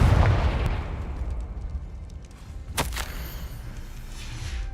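A Confringo blasting curse from Hogwarts Legacy erupts with a heavy boom that decays into a rumble, followed by a sharp crack a few seconds later against a low ambient wash.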